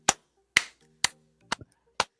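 Five sharp, isolated hand claps ring out one at a time at an even pace about half a second apart, loud and close, with silence between each clap and no speech.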